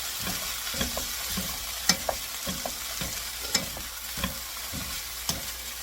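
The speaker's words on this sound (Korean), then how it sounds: "감자채 볶음이 맛있게 되었습니다." Julienned potatoes being stir-fried in a pan, with repeated scraping and stirring strokes over a steady soft sizzle, close and moderately loud, no talking.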